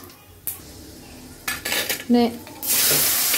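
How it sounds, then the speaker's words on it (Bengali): Pots and utensils clank and scrape, then a panch phoron five-spice tempering hits hot oil and bursts into a loud, sustained sizzle near the end. "ফোড়নে দিয়ে দিলাম 5 ফোড়ন"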